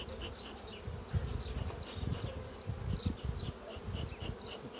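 Honey bees buzz steadily at an opened hive during a seasonal feeding check, a dense, continuous drone with small swells and no voices.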